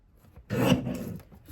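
Paper mats for a card kit are trimmed in one short, close rasping swipe of a paper trimmer blade lasting about a second, with no talk over it.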